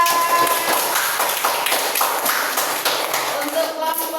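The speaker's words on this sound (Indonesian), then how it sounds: "Beri aplaus untuk Mbak Amira" Classroom applause for a student during a teacher-training practice lesson, a fairly close patter of claps lasting several seconds, with voices mixed in.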